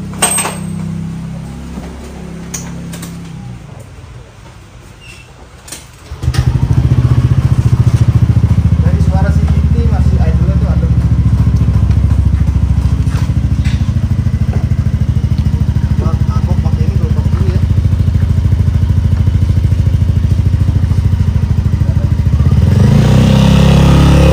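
Yamaha NMAX scooter fitted with an SRP pulley and an R9 Misano semi-racing exhaust accelerates hard after a quieter opening, holding a loud, steady drone to the end.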